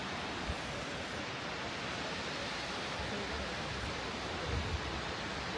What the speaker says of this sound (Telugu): చూడండి ఈ సైడ్ ఉంటాయి వాటర్ ఫాల్స్